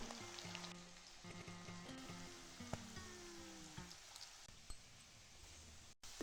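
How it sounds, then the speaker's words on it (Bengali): Potatoes frying in hot oil for ghugni give a soft, steady sizzle scattered with small crackles and pops, faint and close, with no voices. "তেলটা গরম হয়ে গিয়েছে, আলুগুলো দিয়ে দিলাম, কিছুক্ষণ ভেজে নেব।"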